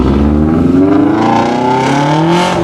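A car engine revving hard nearby, a loud, throaty roar climbing in pitch as it accelerates away, sustained with no break.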